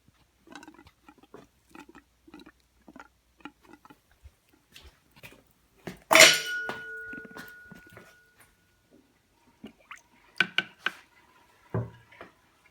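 Air bubbles gurgle and pop out of the engine coolant system of a Toyota MR2 SW20 with a 3S-GTE engine during a coolant change, a series of small irregular bubbling blips followed by a louder burst and a few more gurgles.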